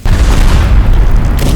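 A loud, deep explosion in the video game Teardown booms right up close, then rumbles on as a sustained low roar and debris for over a second.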